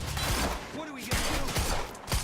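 Gunfire from the video game Quantum Break, sharp repeated shots in an irregular volley amid dense action noise, with excited voices talking over it.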